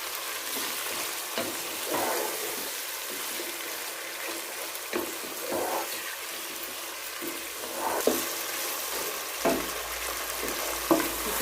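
Half a kilo of chicken frying on high flame for Sindhi biryani, a continuous hissing sizzle broken by stirring scrapes and soft knocks that grow more frequent toward the end.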